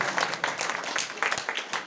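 A crowd at an evening devotional gathering for the Mata ji applauds the Jugal Kishore family with brisk, continuous clapping that is fairly close and fills the whole moment.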